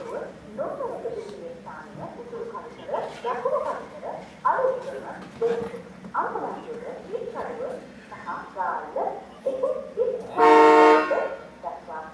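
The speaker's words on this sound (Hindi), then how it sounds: "सिग्नल ग्रीन हो गया, हॉर्न भी हो गया और ट्रेन चल पड़ी" A loud train horn blast sounds near the end, lasting about a second, after a stretch of people talking over background noise at a railway station in Sri Lanka.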